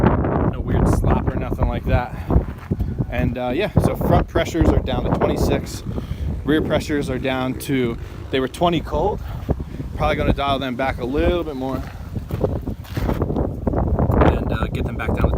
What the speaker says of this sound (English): sorry for the wind, it's so windy tonight.